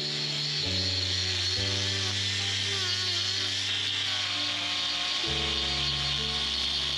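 A power tool grinds and hums steadily while trimming a cow's back hoof horn, its pitch stepping down and back up as the load changes, loud and continuous throughout.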